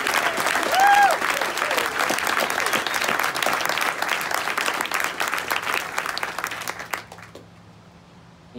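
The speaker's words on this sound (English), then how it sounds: "So we'd like to kick it off with a huge round of applause for those middle school educators." A crowd at an 8th grade graduation claps in sustained, dense applause for middle school educators, with a few cheers near the start, then fades sharply to near silence around seven seconds.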